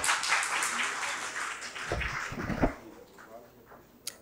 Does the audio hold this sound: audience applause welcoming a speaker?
yes